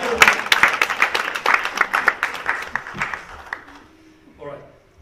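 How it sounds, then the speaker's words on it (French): Congregation clapping, brisk dense claps loud at the start and thinning out over about four seconds, fading to quiet, with a voice speaking near the end. "Now you can clap."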